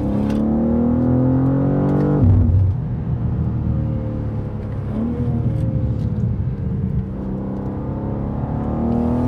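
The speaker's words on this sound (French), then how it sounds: "Là, je mets quasi à fond alors que je suis en plein virage" A 2023 BMW M2 engine pulled at near full throttle through a corner, a loud, close, sustained rumbling roar with revs shifting as it pulls, heard from inside the car without talk.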